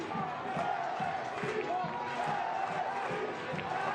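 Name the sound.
soccer stadium crowd cheering late in the match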